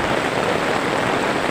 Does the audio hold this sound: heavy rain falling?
yes